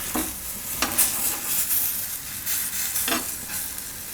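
Mango pudla batter frying in a little oil over a low gas flame, a steady soft sizzle with a few brief scraping stirs, close and alone with no talking.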